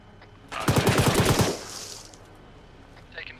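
Gunfire in a military video game during a Zeus operation assaulting rebels: a loud, close burst of rapid automatic fire lasting about a second, followed by a decaying echo and faint distant noise.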